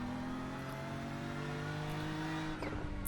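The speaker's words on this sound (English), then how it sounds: "These headsets really accentuate the noise of the tires slipping" A race car engine drones steadily while tires squeal and slip on the Nordschleife in iRacing, heard through a VR headset, continuous and moderately loud, with no voices.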